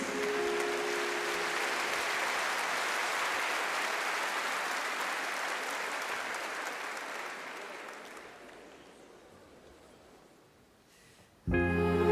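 A large audience at the Zlatna Bubamara 2024 music show applauds in a loud, dense, sustained burst that gradually fades over about nine seconds before music starts up.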